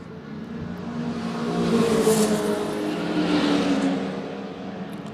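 Historic race cars, among them a Porsche 914, a Porsche 944 and a 270 ZX, roar past on a circuit, engine notes swelling and fading as they pass one after another at moderate distance.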